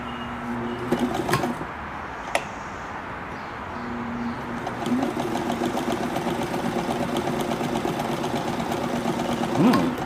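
A Necchi BU sewing machine runs a line of stitching, its steady mechanical whir and rapid needle beat starting partway through after a few isolated clicks and continuing at an even pace to the end.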